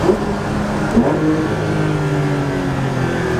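A Porsche GT3 RS engine hums steadily with harmonic tones that rise in pitch as it accelerates, loud and close, with no voices.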